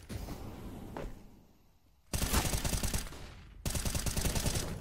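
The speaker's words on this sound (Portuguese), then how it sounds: "Na smoke, o Art encaixa esses disparos." Loud, rapid automatic gunfire from Counter-Strike: Global Offensive during an ESL Pro League match comes in two sustained bursts separated by a brief lull, with almost no commentary audible over it.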